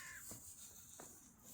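A large flock of crows gathered in a park gives a few scattered caws over steady outdoor background noise, quiet and somewhat distant.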